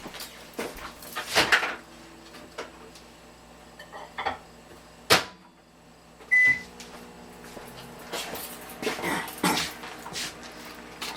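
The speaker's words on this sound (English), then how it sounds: "So while that's warming up in the microwave," A microwave oven warming a roast beef sandwich sub in a kitchen, with a low steady hum under faint clatter, a sharp click, a short beep and scattered thumps nearby.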